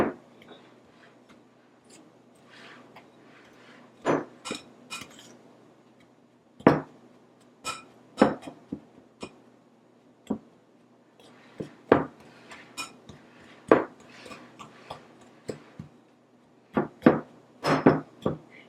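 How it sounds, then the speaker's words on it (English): A pastry cutter works cold butter into pumpkin scone dough in a bowl, giving a string of sharp, close metallic clinks and taps at uneven intervals over a quiet background. "you are done cutting in the butter"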